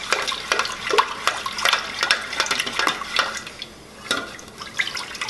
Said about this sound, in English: We're going to add our fragrance now.